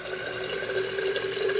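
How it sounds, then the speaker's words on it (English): Water is poured from a tap into jars for making soup, a continuous close splashing stream with a steady pitched fill tone and no voices. "I'll add 2 full jars of water, and I'm going to fill them all the way to the top because this is soup."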